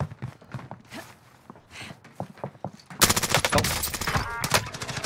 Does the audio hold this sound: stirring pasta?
no